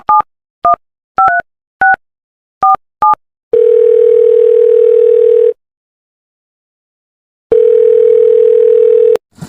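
A telephone call is placed: six short, loud keypad dialing beeps come first, then two long, steady ringback tones separated by a silent pause, with the line close and clear.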